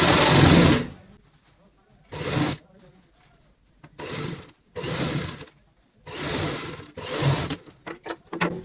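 Sewing machine stitching an old cloth into a ladies' purse, running in five or six loud bursts of varying length separated by pauses, close to the listener, with speech heard between the runs.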